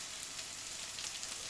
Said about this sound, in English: Put a dollop of ginger